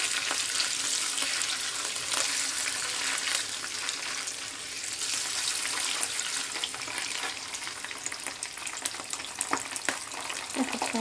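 Garlic sizzles in a hot pan while it is stirred, a continuous crackling hiss with scraping and clinking from the stirring, close and moderately loud.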